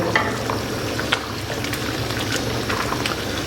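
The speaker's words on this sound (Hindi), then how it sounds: "माशाल्लाह चावलों की जो पकाई है वो शुरू हो चुकी है।" Rice frying in a pan for chana pulao, a steady close sizzle with faint crackles and occasional light scraping, no voices.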